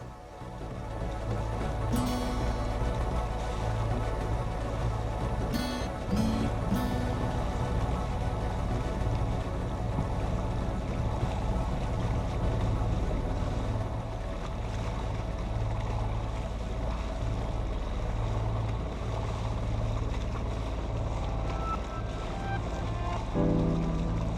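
A Contessa 28 sailboat heads out of Poole Harbour on a fresh, breezy day, with a steady wash of water and wind rushing past the hull and a few brief knocks and clinks from the boat.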